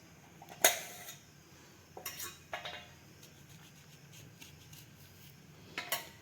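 A knife cuts okra for shallow frying, giving a few sparse, sharp taps and clicks against a cutting surface, fairly quiet, with long soft pauses between strokes.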